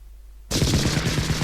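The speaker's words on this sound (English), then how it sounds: "I open fire with the Vulcans, and the roar of the cannons fills my ears" Vulcan cannons fire at Beelzebub in the video game Demonbane, bursting in suddenly as a loud, continuous rapid-fire roar of rattling shots.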